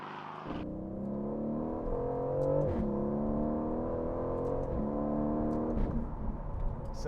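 Aston Martin Vantage V8 in track mode accelerating hard, its engine note climbing steadily through the revs with brief dips at gear changes from the paddle shifters, loud and close throughout with no talking.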